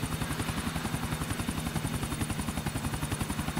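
Helicopter rotor chopping in the video game GTA IV, a steady rapid beat with a continuous engine whine, loud and close throughout with no talking.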